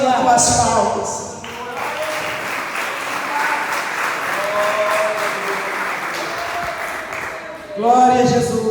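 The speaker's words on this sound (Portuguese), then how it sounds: "Oh, glória ao Senhor com as palmas." Church congregation clapping during a women's evening worship service at an Assembly of God church, a steady wash of applause sustained for several seconds, framed by short bursts of speech at the start and end.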